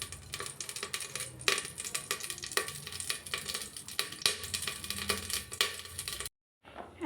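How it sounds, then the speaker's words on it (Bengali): Clove and a pinch of cumin hit hot homemade ghee in a pan, giving a steady crackling sizzle with sharp pops throughout and a brief cut to silence near the end. "আর এইটার মধ্যে আমি একটু একটা লং আর একটুখানি জিরে দেব।"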